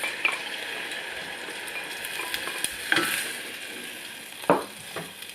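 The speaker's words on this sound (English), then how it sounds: "Now add the stock." Spring onions sizzle steadily in a pan as chicken stock is poured in, with a few sharp clatters and stirring knocks rising above the constant frying hiss; no one talks.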